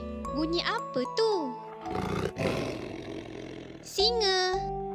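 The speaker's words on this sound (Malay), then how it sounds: "Singa." A lion roar sounds amid a children's educational sequence of animal sounds, loud and layered with a harmonic, sung-like jingle before and after the broad roaring burst in the middle.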